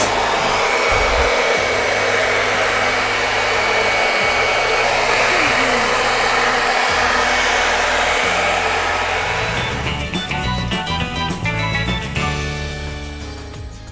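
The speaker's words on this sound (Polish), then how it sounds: "Teraz wysuszymy to suszarką. Do włosów." A hair dryer blows steadily on a painted craft piece, a loud continuous close-up whoosh that runs for the whole stretch, with some clattering handling noise near the end.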